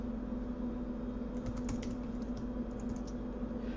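Steady clicking of keys on a computer keyboard while typing C++ code in Visual C++, a quick, irregular run of close taps over a constant low hum.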